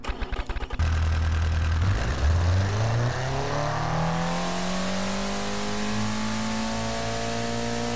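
A car engine in the game Automation, rated for 7,800 RPM, 220 HP and 26 kg of torque, starts with a short sputter, then revs hard and climbs steadily to a loud, sustained high-pitched wail.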